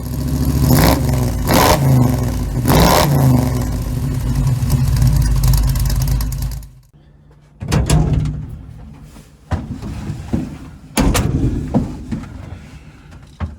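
A 1936 Chevy with an SBC 350 V8 and TH350 transmission rumbles loudly up close, revving and pulling away, then gives way to quieter thumps and knocks like a car door closing.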